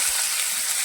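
Cumin seeds sizzle in hot oil for tempering, a steady bright hiss with no talking over it.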